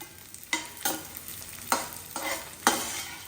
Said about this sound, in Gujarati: હવે જેટલું ઘી તમને અહીં દેખાય છે એટલા જ ઘીમાં આપણે વધારાનો ગુંદ છે એ તળી લેવાનો છે.